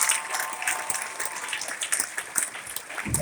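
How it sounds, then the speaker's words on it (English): Audience applauding the sound technician at a live talk event, a steady wash of clapping filling the room at moderate level throughout, with no speech over it. "How about a round of applause"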